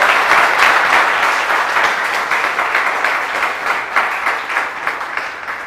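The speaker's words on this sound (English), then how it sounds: "I really want the students to give a round of applause for that" A roomful of students gives a steady round of applause at an embedded systems and robotics program event, dense clapping that stays loud throughout, easing slightly toward the end, with no talk over it.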